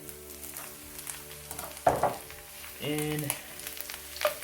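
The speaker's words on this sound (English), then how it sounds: "for now, we're going to saute our mushrooms." Mushrooms saute in a pan for a vegetarian lasagna, making a low, steady sizzle broken by a few utensil knocks, with a brief spoken word over it.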